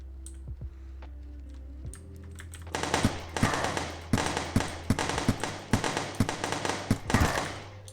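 Gunfire in a Unity top-down shooter game: a run of sharp, evenly spaced shots after a short quiet start, loud and close over a low steady hum.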